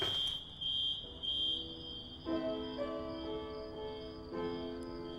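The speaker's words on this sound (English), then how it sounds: "He doesn't care about the alarm." A fire alarm beeps in steady high pulses in a burning building, its tone running on under soft piano music with no talking.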